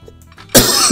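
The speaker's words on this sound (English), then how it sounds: "For coughing in your ear." A single sharp, loud cough bursts out close by after a moment of near quiet, its rough noise trailing off briefly.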